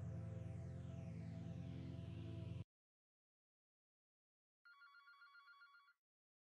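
A telephone rings in the horror game Five Nights at Freddy's. A loud, continuous burst is followed by silence and then a shorter, fainter trill, with no talking.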